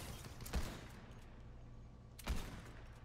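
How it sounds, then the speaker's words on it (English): Two separate gunshots in the Fortnite video game, each a brief crack about a second and a half apart, fairly faint against a quiet background. "I'm gonna go shoot at one,"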